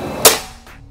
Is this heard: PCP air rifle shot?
yes